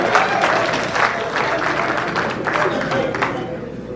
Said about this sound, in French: Applaudissez les nouveaux venus